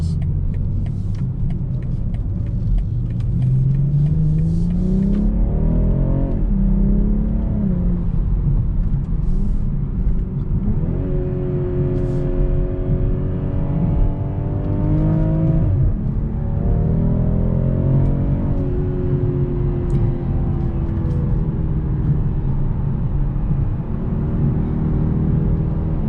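A 2021 BMW M440i Convertible engine revs up and accelerates in repeated surges, a loud continuous drone rising and falling in pitch.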